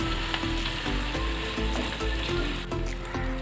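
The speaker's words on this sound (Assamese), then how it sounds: "এতিয়া চিকেনখিনি এতিয়া অলপ সময় ভাজি ল'ম এনেকৈ কম জুইত।" Chicken pieces for butter chicken fry in a pan over low heat, giving a steady, close, dense sizzle with faint stirring scrapes throughout and no voices.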